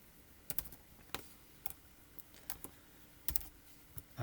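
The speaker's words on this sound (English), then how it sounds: "Now I can just start typing in a name" Typing a name on a computer keyboard: scattered key clicks in short irregular bursts, close and fairly quiet, with no talking.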